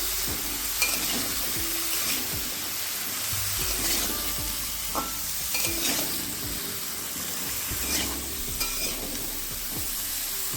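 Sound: kohlrabi being stirred with turmeric and salt in a pan

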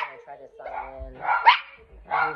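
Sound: dogs barking

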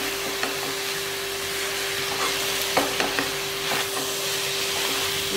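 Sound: stirring veg fried rice with soy sauce

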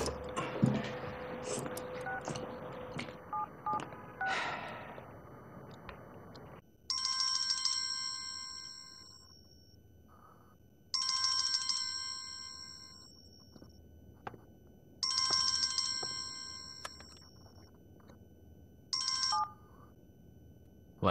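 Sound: telephone ringing during an outgoing call

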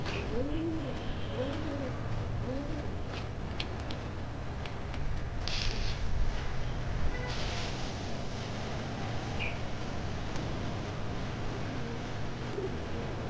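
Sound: pigeons cooing

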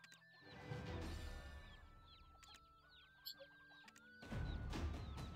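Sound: chickens clucking in the video game Black Desert Online

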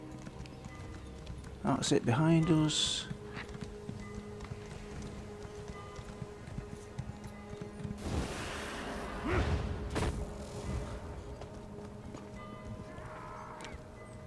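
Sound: horse hooves clip-clopping while riding in video game Elder Scrolls Online

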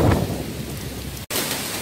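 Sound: rain and thunder during a rainstorm

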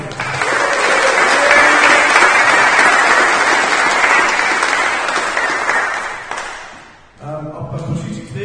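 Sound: applause for a squash player

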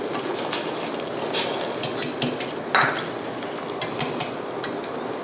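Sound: stirring flour mixture into spinach cream soup

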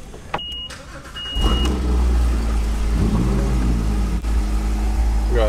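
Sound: McLaren sports car engine starting and revving

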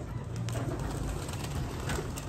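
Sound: pigeon

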